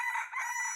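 A rooster crows in a short, clear burst heard on its own.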